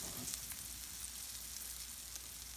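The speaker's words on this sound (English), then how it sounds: "we're gonna let those keep frying, and then I'll flip them over" Chicken thighs fry in olive oil in a pan, giving a faint, steady crackling sizzle with scattered small pops throughout and no voices.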